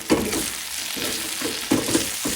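Papaya, potato and carrot pieces fry in oil with turmeric, giving a soft sizzle broken by a few scraping stirs over about two seconds.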